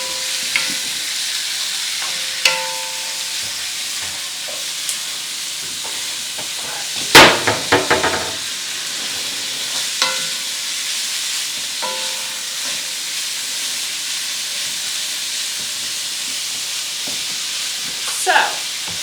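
Taco meat sizzles steadily in a pan as it is broken up for tacos, a constant frying hiss broken by occasional scraping clinks and a louder clatter near the middle, close and with no talk.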